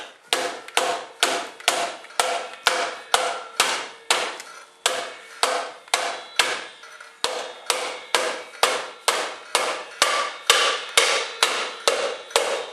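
Rapid, regular rubber hammer taps fitting a Honda bearing repeat about twice a second, each a sharp close knock with a short decay, continuing steadily with a brief pause midway.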